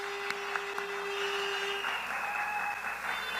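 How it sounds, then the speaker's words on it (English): Crowd applause at a political party meeting, a steady wash of clapping at moderate distance with a couple of sharper claps early on and a tonal hum running underneath. "Could you give her a tremendous round of applause for her birthday as well?"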